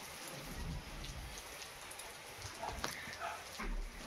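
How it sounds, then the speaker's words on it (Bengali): Rain falls steadily outside a house as a soft, constant hiss of drops on surfaces, fairly faint and distant, with a few louder patters and low rumbles mixed in. "অনেক দিন পর বৃষ্টি হচ্ছে"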